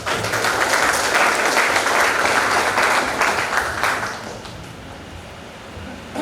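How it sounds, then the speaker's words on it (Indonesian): An indoor audience at a civil engineering regional meeting claps loudly and steadily for the organizing committee, the applause holding for several seconds before tapering off. "Beri aplaus kepada kepanitiaan."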